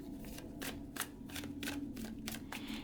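Riffle shuffling of a tarot deck, a run of about six quick ruffling card bursts in steady rhythm, close and clear with no talk.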